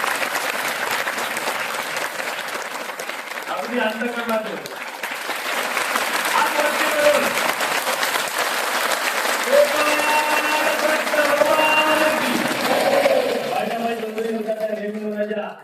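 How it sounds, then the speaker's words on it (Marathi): A church-hall audience applauds steadily for around fifteen seconds to welcome a guest, the dense clapping continuing beneath someone speaking and chanting over it. "सर्वांनी टाळ्या वाजवून आबासाहेबांचं स्वागत केलं"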